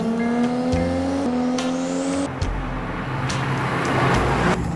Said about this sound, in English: Do you hear the Jasma exhaust system?